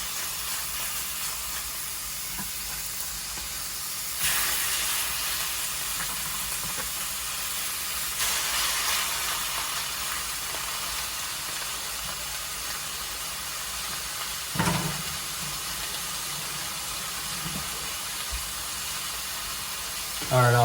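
Chicken pieces fry skin side down in a pan for teriyaki chicken, giving a steady hiss and sizzle throughout, with a few brief louder bursts and clatters.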